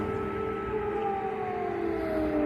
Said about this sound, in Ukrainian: лунає повітряна тривога, і гавкають собаки